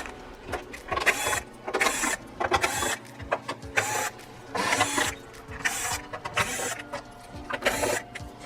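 Machine screws come out of the back cover of a Sony XBR-65X850E 4K TV with a screwdriver: repeated quick ratcheting clicks and small metallic scrapes in short bursts, close and fairly loud, with no talking.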